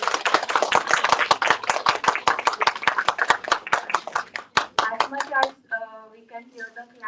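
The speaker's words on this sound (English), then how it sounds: "can hear the claps" Audience clapping fills the room after a workshop session at a B.Ed. college, dense rhythmic claps for several seconds that thin out and stop as a voice begins talking.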